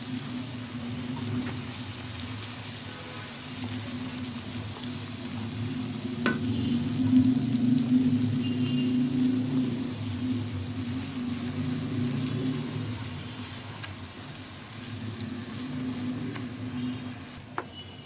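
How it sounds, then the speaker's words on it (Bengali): Spices for mango pickle fry in oil over low heat, a steady, even sizzle with occasional stirring scrapes that goes on for a long stretch without talk. "সবটুকু মশলাই আমরা দিয়ে দিয়েছি, আর তেলের মধ্যে ভালো করে ভুনতে হবে।"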